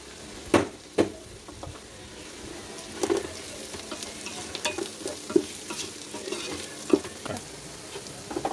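Onions sizzle and fry in a pan while a utensil stirs and scrapes them in irregular knocks, close up, with no talking.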